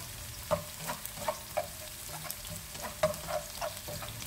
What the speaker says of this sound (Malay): Tumiskan bahan-bahan ini sehingga agak garing.